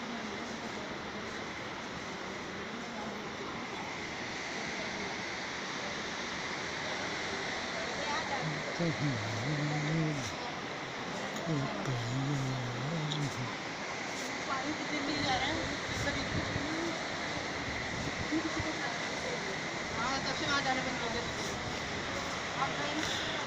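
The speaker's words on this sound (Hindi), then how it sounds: "ये देखिए नदी, अब तो नदी में पानी भी है दोस्तों" Water rushing steadily in a river behind a hillside temple at Kotdwara in Garhwal, Uttarakhand, a constant broadband wash running through the whole stretch while someone talks over it.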